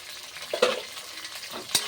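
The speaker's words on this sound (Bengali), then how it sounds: "এবার এই তেলের মধ্যে দিয়ে দেবো আমি টমেটো কুচি" Chopped tomato meets hot oil for mutton kosha, giving a short burst of sizzling with a couple of sharp clinks or scrapes, fairly quiet and close.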